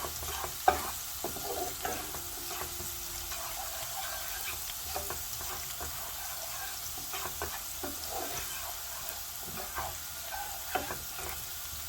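Ingredients being lightly roasted in a home kitchen pan give a soft, steady sizzle with scattered scraping and stirring clicks throughout, fairly quiet, with no speech.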